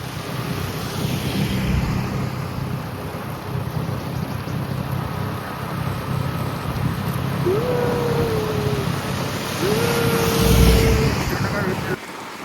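Constant rain hiss fills the background, with a couple of rising tonal sounds and a low rumble passing near the end.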